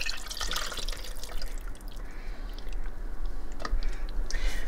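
Water is poured into empty cans to rinse them, giving a steady splashing, trickling wash with some dripping, close and moderately loud, with no talking.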